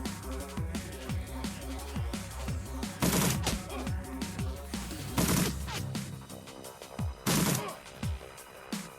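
Gunfire in the video game Shadowrun Returns, with repeated shots over a busy game soundtrack and three heavier blasts breaking through near the start, middle and end.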